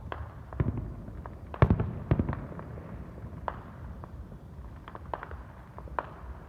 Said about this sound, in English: Oh, look at the red firework.